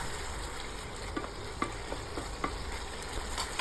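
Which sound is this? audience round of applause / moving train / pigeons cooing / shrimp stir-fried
shrimp stir-fried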